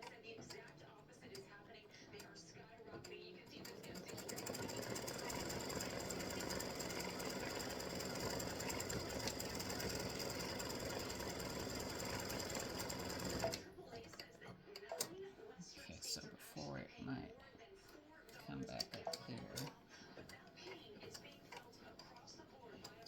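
An embroidery sewing machine stitching free-standing lace acorn earrings, a fast steady mechanical whir and ticking that runs for several seconds before stopping, followed by quieter handling sounds.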